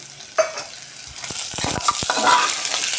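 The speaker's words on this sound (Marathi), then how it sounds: "आता आपण याच्यामध्ये वाटाणा आणि पावटा घालून घेऊया" Peeled green peas and pavta beans dropped into masala rice frying in a pan: a soft thud as they go in, then scraping stirs and a rising sizzle that grows louder and busier toward the end.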